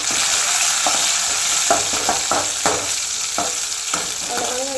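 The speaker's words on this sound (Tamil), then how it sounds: "பொன் வறுவலாக வெங்காயம் நல்லா பொரிஞ்சிருச்சு" Onions fry until golden in a pan for sambar, a continuous loud sizzle broken by repeated scraping stirs of a spoon against the pan.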